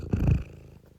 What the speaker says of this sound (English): I'm pet sitting a cat, and maybe you have heard her purr the whole time.